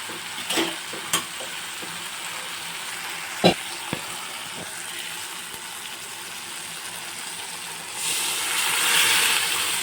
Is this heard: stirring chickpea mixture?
yes